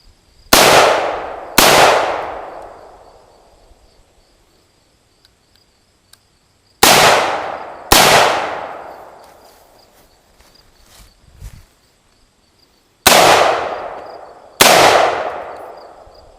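Gunshots from an AR-15 or 1911 pistol at an outdoor shooting range come in three pairs of loud, sharp reports, each with a long ringing decay, separated by pauses of several seconds.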